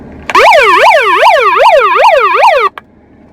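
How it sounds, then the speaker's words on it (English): A loud electronic wailing siren from a handheld megaphone, rising and falling rapidly about eight times before cutting off abruptly. "This is not only a megaphone, it's also a bottle opener and a siren."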